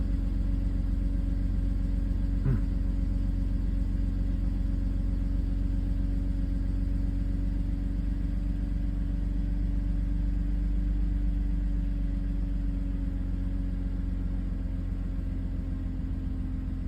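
A car engine idling unevenly after a Liqui Moly MoS2 anti-friction engine treatment, a steady close mid-pitched rumble with a low hum that holds constant throughout with no talking.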